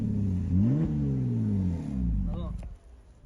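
A car engine revving, its pitch rising and falling, then sputtering and cutting out to near silence as it stalls, close by.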